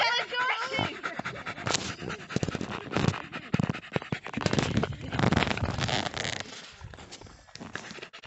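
An exhausted, overheated dog pants heavily and rapidly right next to the listener, the quick breaths continuing throughout, with some rustling and a person's voice in the background.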